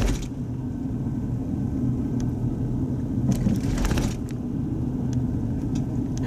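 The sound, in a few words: car passing on road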